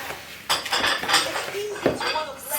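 A spoon stirs cinnamon and ginger into granola in a bowl, giving a run of close scraping and clinking with brief bursts of rattling.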